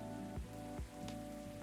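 Steady rain falls outside in the video game Coffee Talk, a soft continuous wash heard alone at low level beneath a faint looping background tone.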